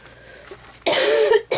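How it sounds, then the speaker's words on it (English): A single harsh cough, close and loud, followed by a short second burst after a brief pause. "I've got a bit of a cough."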